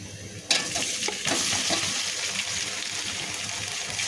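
Shrimp dropped into hot mustard oil with chopped onions, bursting into a loud, continuous sizzle and crackle with some stirring, close-up in a home kitchen.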